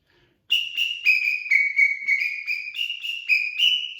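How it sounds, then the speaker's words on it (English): A samba whistle is blown in a quick run of shrill, piercing chirps and trills outdoors on a sunny day, loud and close, starting after a short silence and continuing in an uneven rhythm with no talk. "I've got my samba whistle."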